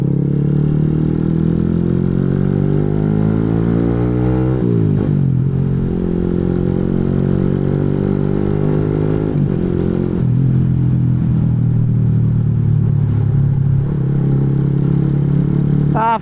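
A Triumph Daytona motorcycle ridden on the road, its engine droning steadily close up, the pitch climbing through gear changes with brief dips between shifts, loud and continuous with no talk.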